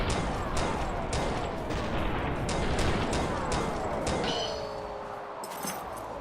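Rapid gunfire bursts crackle throughout a battle in the video game Noel The Mortal Fate, with repeated sharp shots over a dense, steady bed of game noise and metallic clinks, loud and close, with no talk.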